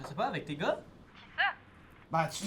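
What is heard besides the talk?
None of the usual background noises is heard.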